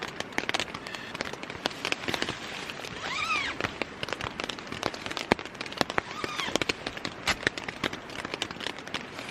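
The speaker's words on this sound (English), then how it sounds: "what you're hearing is just the drops falling off the trees above me" Scattered water drops fall from trees in the Australian bush after rain, pattering irregularly onto leaves and ground all around, a soft constant dripping with a few louder close plops.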